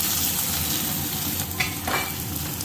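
Curry leaves and garlic, with tomato, sautéing in a pan: a steady close sizzle with a couple of brief stirring scrapes partway through, no voices.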